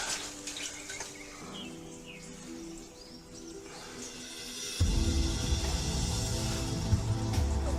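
Water sloshes and splashes around leaky waders as someone wades through a flooded 1700s mine. Quieter trickling comes first, then heavier, louder sloshing close by.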